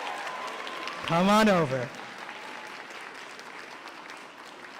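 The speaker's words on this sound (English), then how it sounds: "Let's give her a round of applause as our representative in Israel next year." An audience claps steadily for a second-place contestant at the closing ceremony of a national Bible contest finals, with a brief voice rising over the sustained applause.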